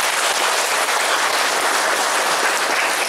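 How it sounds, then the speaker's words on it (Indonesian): An audience at a credit union meeting in Indonesia claps in a dense, steady round of applause that carries evenly throughout, with no talking. "Saya kira boleh tepuk tangan."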